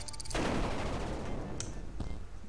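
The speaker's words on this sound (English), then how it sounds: "That was quite an explosion." A loud explosion from the video game El no juego 2: a sharp blast that opens into a dense, rumbling roar with crackling debris lasting a couple of seconds, ending in a few thuds.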